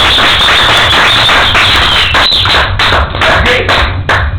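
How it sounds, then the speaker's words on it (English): A classroom of students clapping for a classmate, a dense patter of claps running steadily for several seconds and thinning out toward the end, with some talk mixed in. "Applause for Aileen!"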